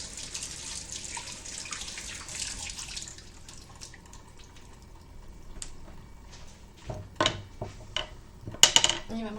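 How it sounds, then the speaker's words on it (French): A kitchen tap runs as sticky hands are rinsed during homemade sushi and maki making, a soft steady hiss at first, then quieter, followed by several sharp clinks and knocks of dishes near the end. "Je me rince les mains parce que là, ça colle grave."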